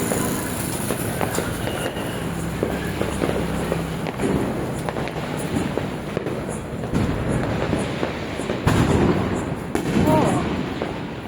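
Dense, continuous crackling and popping of many Diwali firecrackers going off in Jamnagar, loud and sustained, with scattered sharper bangs and a busy outdoor roar.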